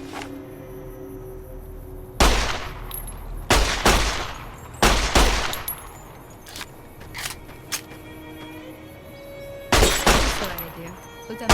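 Gunshots fired at sarsaparilla bottles in Fallout New Vegas: four or five loud, sharp cracks spaced a second or two apart over faint game ambience, with a quiet voice between shots.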